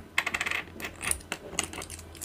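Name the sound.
coins dropped one by one into a glass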